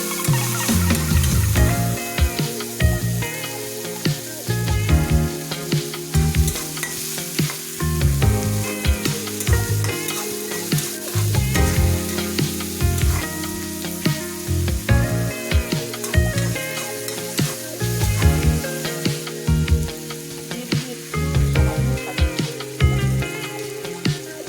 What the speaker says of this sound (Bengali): পেঁয়াজ, কাঁচামরিচ কেটে রেখেছিলাম, সেগুলো দিয়ে দিলাম। ভালোভাবে ভেজে নেব।